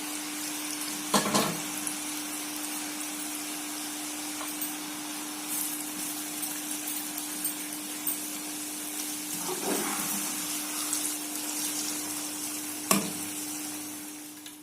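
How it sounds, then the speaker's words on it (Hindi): Crushed potatoes deep frying in oil for protein nimko, a continuous close sizzle and bubbling with a few sharp clinks of stirring spread through it, no talking. "अब ये हमारे जो आलू क्रश किए हुए थे वो भी फ्राई हो चुके हैं।"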